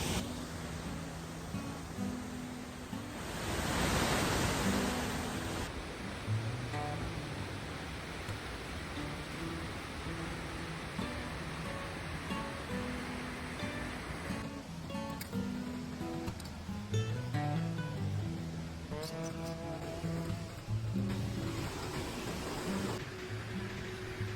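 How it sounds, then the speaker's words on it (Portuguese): Rushing water from the Indaiá waterfall in Brazil's cerrado pours in a constant broadband hiss, loudest in a brief surge early on, with faint knocks and rustles over the steady roar. "acabamos de chegar aqui na Cachoeira do Indaiá"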